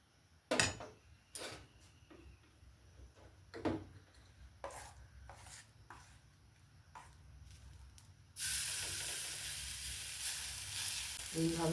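Thin batter spread into an oiled pan for a homemade vegetarian tiffin in a village kitchen: a few sharp taps, then a sudden loud, steady hissing sizzle that continues to the end.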